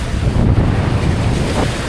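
Loud, constant wind buffets the microphone over the rush and churn of Pacific Ocean waves out at open sea, a dense roar with no talking.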